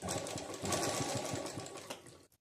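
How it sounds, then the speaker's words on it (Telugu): Sewing machine stitching the corner of a blouse back neck with a border, a steady close whir of rapid needle strokes running continuously before stopping abruptly at the end. "ఇలా కార్నర్కి కుట్టు వేసుకోవాలన్నమాట"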